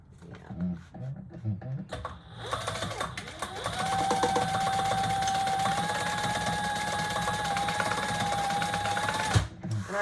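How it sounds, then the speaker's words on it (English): A sewing machine stitching a fabric pouch case runs in a steady, fast mechanical whir for several seconds, preceded by brief handling noises and a short pause, close and clear. "we're gonna stitch about 1/4 of an inch"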